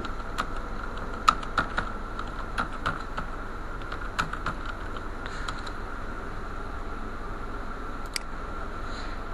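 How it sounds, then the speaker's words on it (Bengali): Typing on a computer keyboard: irregular, crisp key clicks in short bursts, close and fairly quiet, over a faint steady hum from a fan. "আমরা একটু লিখি"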